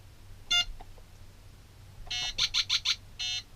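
A LEGO-compatible 4.5-volt programmable brick beeps: one short tone, then a quick run of four rapid pulses and a longer final beep, bright and close against a low hum.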